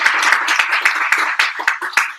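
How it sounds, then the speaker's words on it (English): Applause from a meetup audience at a data visualization talk: a dense, steady patter of many hands clapping close by, holding strong for about two seconds before tapering off. "But a round of applause."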